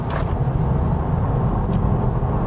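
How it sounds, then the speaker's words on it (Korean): Volkswagen Passat GT under hard braking and high-speed cornering, heard as a steady, loud low rumble of road and engine noise from inside the cabin, continuous throughout with no clear tire squeal. "자, 속도를 쭉 끌어올려서요, 고속 코너링 한번 시도해 봅니다."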